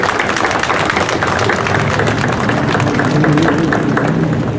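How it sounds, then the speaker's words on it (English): An audience at a Vietnam War Veterans Day ceremony applauds the Coast Guard, a dense steady wash of many hands clapping throughout. "Give up our Coast Guard a round of applause."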